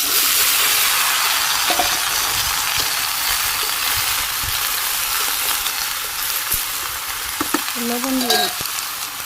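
Vegetables frying with cumin, fenugreek and green chili on a clay stove give a loud, steady sizzle and hiss, with a few brief stirring scrapes near the end.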